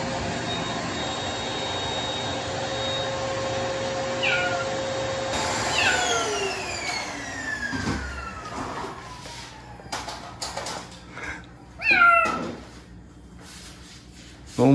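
A running vacuum cleaner whines loudly and then winds down while a frightened rescued cat lets out several meows, with a sharper cry near the end.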